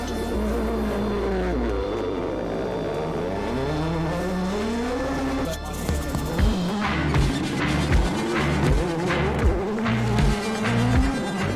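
Rally cars on a 2018 Rally Finland stage: engines rise and fall in long sweeping revs, then a car blasts past close by with sharp throttle bursts and gear changes, loud and alone with no talking.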